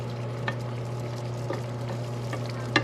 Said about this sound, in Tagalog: Pakuluan lang natin ito mga kaibigan. Initin.